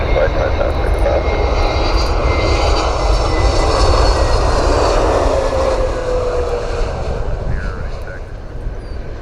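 A passenger jet runs loud and close at Cleveland Hopkins International Airport, its engine roar steady and then easing slightly toward the end, with faint voices beneath the noise.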